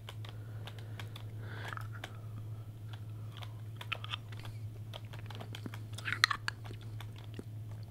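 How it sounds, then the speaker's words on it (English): Peppermint hard candy is sucked and crunched up close, with scattered wet clicks and bites over soft computer keyboard typing and a steady low hum during Fortnite play. "I am going to be eating some hard candy. Some peppermint hard candy."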